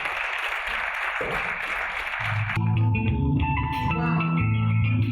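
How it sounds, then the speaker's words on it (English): Audience applause at a brand launch and unveiling event, a broad crackling wash of clapping for about two and a half seconds before giving way to music with sustained tones. "We give a round of applause to our WETI president."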